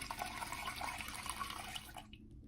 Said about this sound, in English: it's just running nice, clean water over your nozzles